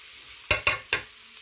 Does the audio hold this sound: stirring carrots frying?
yes